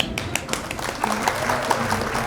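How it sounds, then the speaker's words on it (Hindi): Audience applause welcoming a speaker, Omkar Manishi, at a Hindi literary gathering, a steady wash of clapping from a crowd lasting a couple of seconds with no voices over it. "आप ज़ोरदार तालियों से स्वागत करिए हमारे बड़े भाई ओमकार मनीषी जी का"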